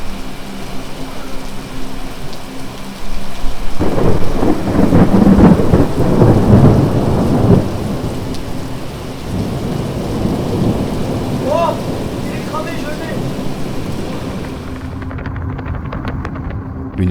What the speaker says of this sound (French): Une fois que la pluie s'est calmée